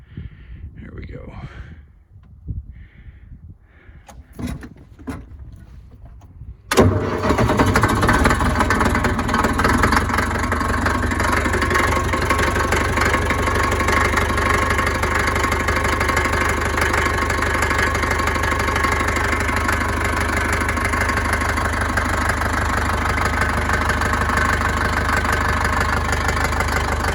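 A Cat D4D dozer's diesel engine catches after a few seconds of quiet shuffling, then settles into a loud, steady, rumbling idle that runs for over twenty seconds, close by and without pause.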